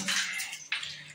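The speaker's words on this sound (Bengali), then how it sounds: "হালকা হালকা পানি বার হচ্ছে" Water from a hand pump with iron-fouled inner parts spills out in a faint, brief splashing trickle, two short bursts close by.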